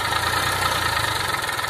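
A tractor engine, one of Massey 241, Sonalika or Eicher 380 models, runs steadily with a low, throbbing idle and continuous mechanical vibration, close and fairly loud, no talking.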